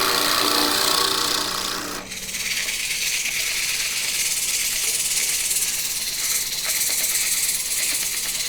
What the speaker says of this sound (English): then we're going to sand everything